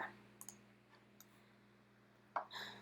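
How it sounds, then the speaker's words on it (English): Sharp computer mouse clicks at a desk during 3D model work: two quick clicks near the start, a few faint ticks, then a louder click near the end, all sparse and close against a low electrical hum. "Remember, I'm panning by clicking on the middle wheel."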